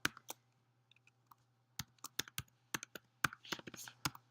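Keys clack on a computer keyboard as a saved search name is typed, with irregular bursts of close, crisp clicks separated by short pauses over a faint steady hum.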